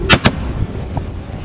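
Two quick sharp shotgun blasts at ducks in rapid succession, loud and close, followed by outdoor ambience on a North Dakota hunt.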